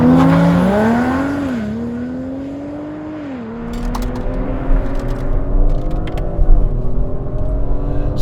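An Audi RS5 launches hard on launch control, its engine note climbing and dropping at gear shifts as it accelerates away, with tire and wind noise building under a loud, close engine.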